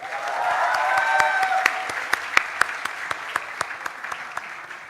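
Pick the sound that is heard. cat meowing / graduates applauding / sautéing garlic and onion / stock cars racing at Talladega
graduates applauding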